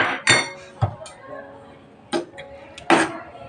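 Ripe banana pieces dropped into a pot while making banana kheer, heard as a few separate clinks and soft thuds of a spoon against the metal, close by, with quiet gaps between them.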